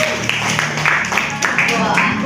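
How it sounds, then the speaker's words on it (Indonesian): Students in a classroom clap for a classmate's answer, a short burst of scattered applause mixed with voices and chatter. "Beri tepuk tangan, guys."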